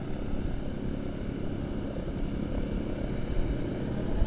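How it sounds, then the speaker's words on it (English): Douglas A-26 Invader twin piston-engine aircraft taxiing past at an airshow, giving a steady, broad rumbling drone at moderate distance that holds even throughout with no voices. "you'll get a bit of noise now as A-26 Invader Millionaire S taxis in front of our commentary position"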